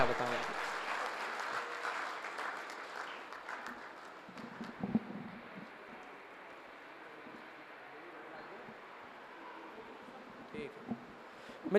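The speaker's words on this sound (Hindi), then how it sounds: "आपके हाथों से उठने वाली तालियां बताएं।" Applause from an audience at a Hindi kavi sammelan poetry gathering, a dense patter of clapping that is strongest early and fades to a lighter, steady spattering.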